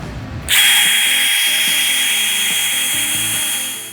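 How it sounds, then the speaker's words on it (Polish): A cordless drill drives a gearbox to screw a steel post base into the ground, starting abruptly and whirring at a loud, steady, high pitch with a rhythmic mechanical grinding underneath for several seconds before easing slightly. "Przekładnia napędzana jest zwykłą wkrętarką."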